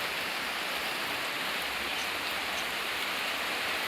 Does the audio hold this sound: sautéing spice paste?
no